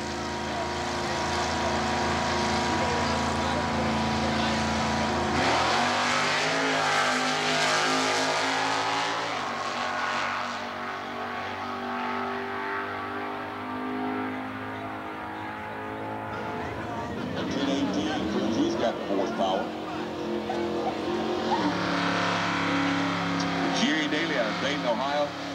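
Drag racing engines roar and rev for a long stretch, fading and swelling again, with a voice talking over the noise; a 1967 Camaro with a 396, 325 hp, Turbo 400 transmission, Super Stock racing, Atlanta 1992.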